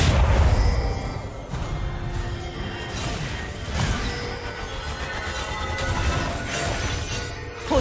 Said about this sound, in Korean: 빨간 팀의 포탑이 파괴되었습니다.